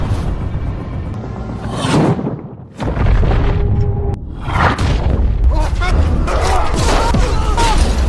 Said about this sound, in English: only the rescue ship was hit by the rocket